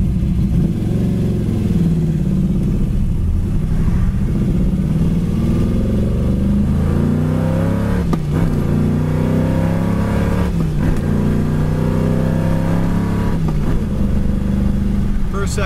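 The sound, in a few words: 1969 Chevy Nova engine accelerating through gears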